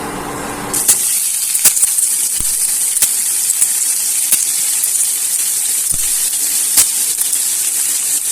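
Sliced onion dropped into hot oil for a soya malai Afghani curry, sizzling as a steady broadband hiss after an initial burst, with occasional sharp crackles and pops over about eight seconds, no talk.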